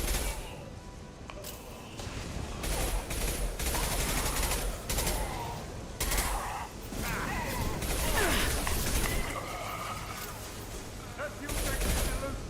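In the Mass Effect video game, impact shot weapon fire booms and rattles through a chaotic firefight, with repeated loud blasts and bursts over continuous battle noise and intermittent voices.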